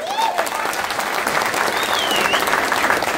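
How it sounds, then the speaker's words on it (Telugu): Audience applause at a public Phule Ambedkar inspiration tour event in Mumbai: a steady, dense wash of clapping from a large crowd, sustained throughout, with a few faint whistles rising above it. "మీ యొక్క చప్పట్ల మధ్య"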